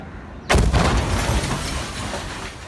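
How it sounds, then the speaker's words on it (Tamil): A bomb left in a parked van detonates while being defused: one sudden, loud blast that rolls into a long, dense rumble and debris-like roar fading slowly over the following seconds. "வேனில் இருந்த வெடிகுண்டை செயலிழக்கச் செய்யும் பொழுது எதிர்பாராத விதமாக வெடித்துள்ளது."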